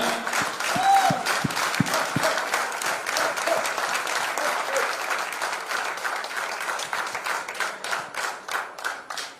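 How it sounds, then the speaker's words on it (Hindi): A packed hall gives applause to welcome a guest speaker at an agriculture products training event, with many hands clapping in a loud, dense, continuous patter that stays strong for several seconds, individual sharp claps standing out early on. "तो जोरदार तालियां।"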